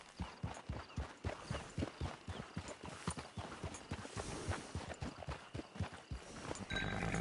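Horse hooves clip-clop in a PS4 video game. A steady, close, rhythmic walking gait of sharp knocks repeats throughout over a faint game ambience.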